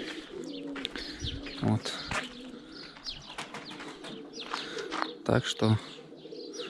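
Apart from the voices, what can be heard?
pigeons cooing in pigeon loft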